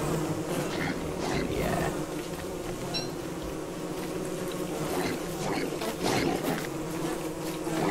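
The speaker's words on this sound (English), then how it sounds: "Killer bees." Steady insect buzzing, a dense swarm of killer bees in the game Don't Starve droning continuously throughout at moderate loudness, with no voices.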